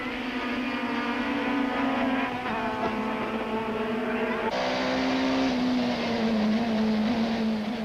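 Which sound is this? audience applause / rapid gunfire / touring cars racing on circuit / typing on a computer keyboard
touring cars racing on circuit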